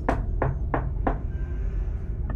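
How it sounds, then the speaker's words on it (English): Four firm knocks on a door in a quick, even rhythm, followed by a faint single tap, with a low background rumble and no talking. "knock against the door."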